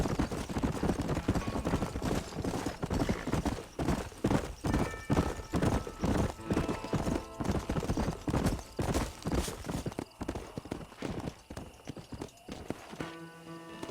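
Horse hooves clip-clopping at a gallop in the game Red Dead Redemption, a steady rapid drumming rhythm with an occasional whinny and light game ambience, loud and close throughout.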